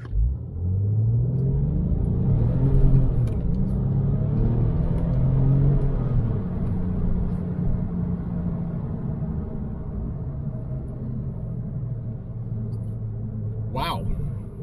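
A car pulls away hard from a standstill in first gear in winter with traction control on. A loud, close engine rumble rises in pitch and holds for several seconds, then settles to a steadier drone, with a voice speaking over it.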